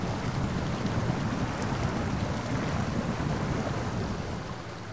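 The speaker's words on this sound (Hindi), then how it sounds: "खतरनाक तरीके से बह रहा है भाई पानी।" Fast, dangerous stream water rushing in Snowrunner on the snowy North Port, Alaska map, a dense continuous roar holding steady for several seconds before easing slightly, with no voices.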